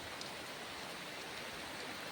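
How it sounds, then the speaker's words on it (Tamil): Heavy rain pours down steadily during a rainy cast-net fishing outing, a dense, even hiss of falling water close by that fills the whole stretch without pause and with no voices. "மழை சரியான மழை பெஞ்சிக்கிட்டு இருக்கு"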